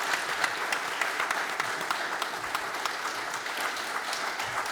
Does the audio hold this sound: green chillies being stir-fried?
no